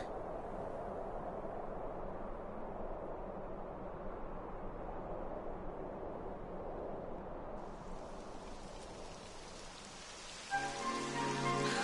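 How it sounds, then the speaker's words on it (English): Steady rain falls in the video game Dragon Quest XI S, a dense, continuous hiss that brightens and swells near the end. "It would have to go and start raining, wouldn't it?"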